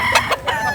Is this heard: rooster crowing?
yes